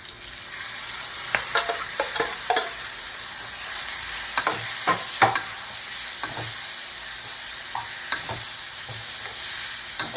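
Boiled quartered lemon pieces with salt and asafoetida stirred into a hot frying pan for lemon pickle, steady sizzle with repeated scraping and clacking stir strokes throughout, no voices.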